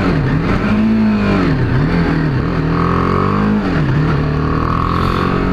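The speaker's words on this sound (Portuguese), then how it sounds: "Vou tentar fazer uma reduçãozinha aqui" BMW G 310 R motorcycle on a test ride, steady engine note dipping and rising in pitch as the rider downshifts, with a continuous wind rush throughout.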